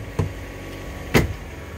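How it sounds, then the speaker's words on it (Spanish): An Opel car's hood is shut: a light knock comes first, then a single firm, close slam of the metal hood about a second later, followed by quiet. "Voy a cerrar el capot."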